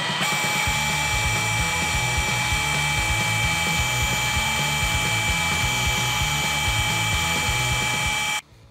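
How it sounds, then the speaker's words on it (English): A drill-powered pump emptying a toilet runs with a steady, loud mechanical whir and rhythmic pulsing for about eight seconds, then cuts off abruptly. "And then I can literally just start drilling."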